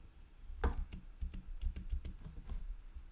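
Close keys on a computer keyboard clack in irregular quick bursts, soft individual taps with brief pauses and no talking.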